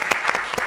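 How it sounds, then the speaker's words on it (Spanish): Audience applause for a technologist taking the stage at a robotics talk, a brief burst of several sharp, fairly loud claps. "le pedimos un fuerte aplauso a todos para Joaquín Dal"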